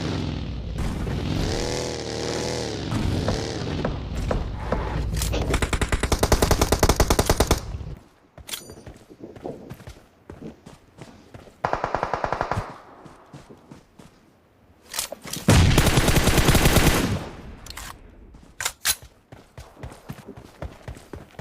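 PUBG Mobile firefight: loud, close bursts of rapid automatic gunfire, some shots well apart and others in dense volleys, with quieter game noise between the bursts.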